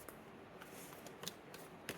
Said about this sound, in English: I already pre-shuffled, but I want to shuffle on camera.